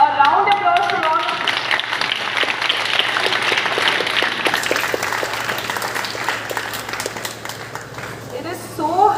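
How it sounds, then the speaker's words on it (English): An audience at a school idea conclave applauds, sustained rapid clapping from many hands that builds and carries on for several seconds, with a voice briefly heard at the start and end. "A round of applause for all."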